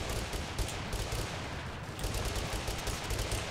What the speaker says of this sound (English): I'm going after him with my fucking revolvers.